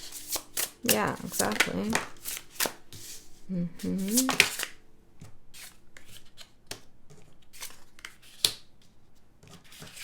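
A deck of tarot cards is shuffled and laid out during a reading, giving rapid riffling, flapping and sliding bursts close by. A person talks briefly over the first part of the shuffling.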